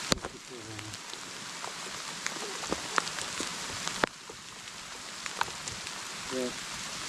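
Heavy rain outdoors at an old rock wall, a soft, steady patter of drops with scattered sharper ticks and splashes, fairly quiet and spread around rather than close.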